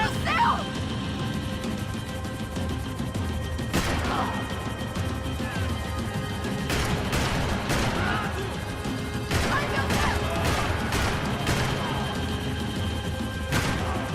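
Gunfire in the video game Max Payne 3, scattered sharp shots and crashing impacts in irregular bursts, loud and close over a dense, continuous action-game background.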